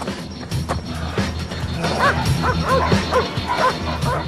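Police tracking dogs bark and yelp in a rapid, excited run of overlapping barks with some whimpering, fairly close over outdoor background noise.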